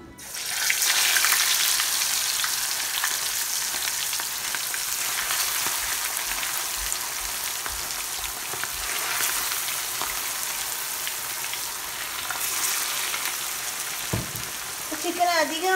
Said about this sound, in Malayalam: ഇനി നമുക്ക് ഈ ഉള്ളി വറുത്തെടുത്ത എണ്ണയിൽ തന്നെ ചിക്കൻ ഓരോന്നായി പൊരിച്ചെടുക്കാം